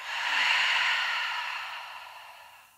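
A long, slow breath pushed out through the mouth during a guided hip-stretching session, one steady airy exhale that swells early and then fades gently over nearly three seconds, close and alone with no talk.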